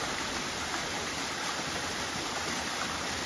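A waterfall at Magliano, with water plunging onto its base, gives a steady, dense rushing roar that stays even and unbroken throughout, with no voices over it.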